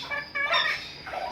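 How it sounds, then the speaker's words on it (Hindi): Chickens at a Sunday bird market in Bahawalpur, including Silver Sebright, Golden Sebright and Light Sussex among about a hundred birds, give a short burst of nearby clucking calls. "तकरीबन हमारे पास 100 प्लस मुर्गियाँ इस टाइम मौजूद हैं।"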